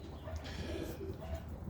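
Roller pigeons coo in low, repeated murmurs close by, a steady soft burbling from several birds in a loft with no talk over it.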